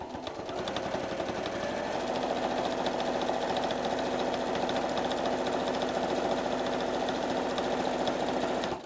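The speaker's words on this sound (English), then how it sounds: "One-handed sewing for the win." A sewing machine runs close and continuously, stitching strips of a quilt-as-you-go strip quilt with a steady, fast mechanical whir that holds for the whole stretch without pause.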